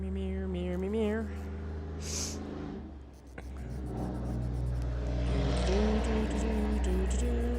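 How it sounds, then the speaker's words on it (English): A truck drives past outside, a steady low engine rumble that swells and fades across the clip under sewing-room sounds and a voice. "that's what I've been used to all day, is that truck noise"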